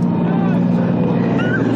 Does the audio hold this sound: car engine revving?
yes